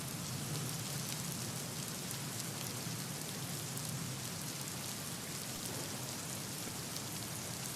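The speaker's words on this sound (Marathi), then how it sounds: "गेल्या 3 दिवसांपासून तुफान पाऊस कोसळतोय" Heavy monsoon rain pours steadily around Lonavala during a three-day downpour, a dense, unbroken hiss that stays loud and even throughout with no voices.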